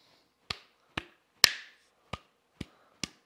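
Six sharp metallic taps spaced unevenly, one louder ringing knock in the middle, each with a brief decay in an otherwise quiet space, as a fixture is bumped into place on a Heritage Rough Rider revolver.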